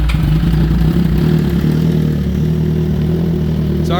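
An already warmed-up 2008 Suzuki GSX-R1000 sport motorcycle engine runs close by with a loud, steady, low throbbing idle throughout.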